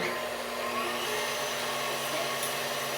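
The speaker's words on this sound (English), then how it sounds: "And now let's whisk the cream with the sugar. Go ahead. And put that on high." Electric hand mixer running on high as it whisks cream with sugar for homemade tiramisu, a steady even motor whir with no talk.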